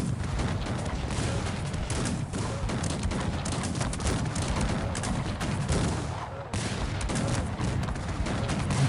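Dense, continuous musket volleys and cannon fire from a Cossacks 3 battle, a steady roar of crackling gunshots and booms with a brief dip near the end, no talking over it.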